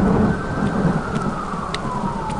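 A thunderstorm from a movie trailer brings heavy rain pouring with a low rumble of thunder, dense and loud throughout, along with a faint falling tone drifting over it.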